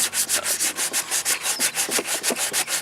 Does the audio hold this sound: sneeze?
no